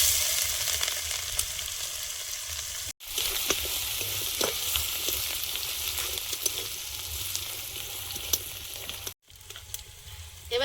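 Ginger, garlic and green chilli paste fries in hot oil already seasoned with dried red chilli and five-spice, giving a steady close crackling sizzle with two brief cut-outs and occasional stirring scrapes.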